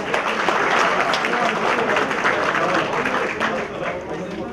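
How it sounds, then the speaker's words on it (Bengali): An audience at a Bangladeshi film event applauds, a dense wash of many hands clapping that stays loud and steady before tapering off slightly at the end. "বাংলাদেশ চলচ্চিত্র ফোরামের জন্য একটা করতালি চাই"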